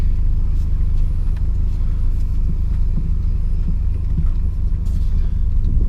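A supercharged built race car engine rumbles low and constant from inside the car while driving, a steady throaty drone with faint road noise and small clicks, no voices.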